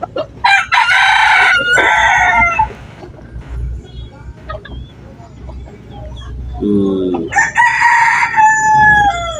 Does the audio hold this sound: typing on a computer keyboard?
no